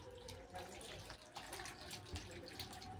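Tap water runs steadily over a watermelon being washed by hand, a continuous close splashing rush with small irregular spatters throughout.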